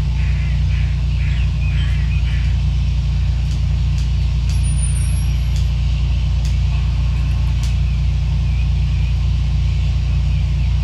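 Steady low engine rumble of an aircraft in the Prepar3D flight simulator with throttle applied, a constant loud drone filling the whole stretch with faint higher hiss above.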